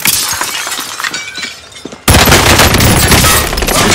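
Gunfire in Call of Duty Warzone on the Caldera Resurgence map, scattered distant shots giving way to a loud, dense barrage of close fire and breaking, shattering impacts.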